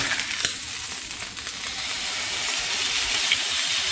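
Meat sizzles steadily in a very hot pan just after being flipped, a continuous close hiss of searing with a few faint crackles.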